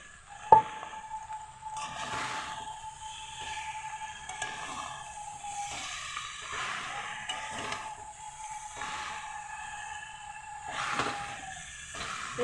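Fried potatoes go into a pan of jackfruit curry, an opening clink followed by soft sizzling, hissing and intermittent stirring scrapes at moderate volume, with no talking.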